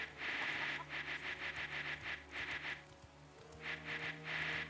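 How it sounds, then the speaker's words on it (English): Rain in the video game Dynasty Warriors 9, a hissing patter that swells and fades in repeated bursts over a low steady hum, with brief quiet gaps between the waves. "Oh, wait, nope, it is raining."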